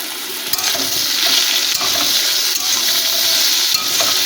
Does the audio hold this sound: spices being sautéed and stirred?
yes